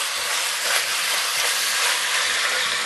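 Beef browning in a hot pan for boeuf en daube, a steady broadband sizzle and hiss that holds even and fairly loud throughout, with no talking over it.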